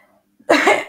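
Someone clears their throat once, a short rough burst that follows a quiet moment.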